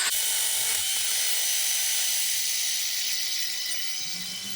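A 3-inch wire wheel on a power tool scrubs corrosion off a car's brake hub, a steady high abrasive whir held close and loud for several seconds, easing slightly toward the end.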